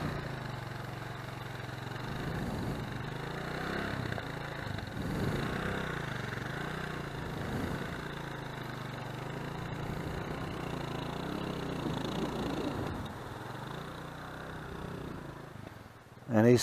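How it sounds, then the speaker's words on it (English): Kawasaki KLR dual-sport motorcycle rides through a shallow water crossing on an adventure trip, its engine a steady mid-range drone throughout, with outdoor background noise and a sudden louder burst at the very end. "So here goes Mr. Young on the mighty KLR"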